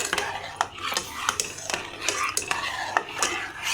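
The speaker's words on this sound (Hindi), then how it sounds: "कस्टर्ड पाउडर डालने के बाद हम करेंगे अच्छे से मिक्स।" A spoon stirs custard powder into hot milk in a pot, scraping and clinking against the metal in quick uneven strokes, close up, with someone talking over it.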